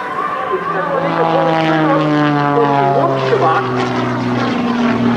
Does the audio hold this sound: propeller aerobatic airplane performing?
yes